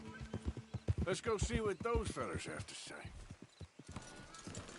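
Horse hooves clip-clop in a quick rhythm beneath a man's speech in Red Dead Redemption 2, with a steady game-like ambience; the clopping continues after the talking fades.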